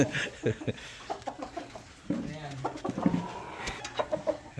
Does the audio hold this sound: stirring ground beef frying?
no